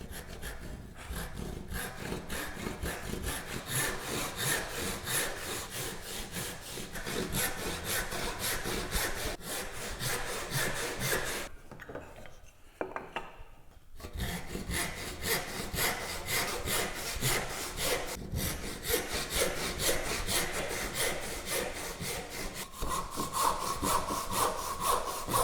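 A hand saw cuts wood for a bridle joint in steady rhythmic back-and-forth strokes, a close raspy sawing that runs on at an even pace, pauses for a couple of seconds, then continues with no talking.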